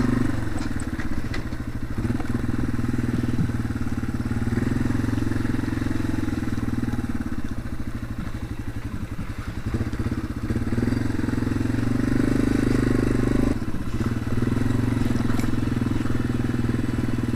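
A motorcycle engine rumbles steadily up close while riding a trail with lingering snow, with occasional clatter and thumps from rough ground.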